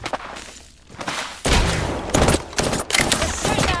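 Rapid enemy gunfire erupts in Apex Legends, loud, close bursts of automatic shots arriving in clustered volleys after a quieter opening, with heavy thumps layered underneath.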